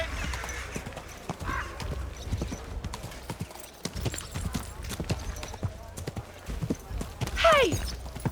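Horse hooves clip-clopping at a steady trot in Kingdom Come: Deliverance II, a busy medieval market setting, with voices talking over the hoofbeats and a brief whinny near the end.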